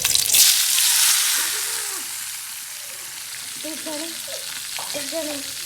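Mustard seeds spluttering and crackling in hot oil in a pan for an egg curry, a steady loud sizzle with sharp pops throughout, alone with no talking.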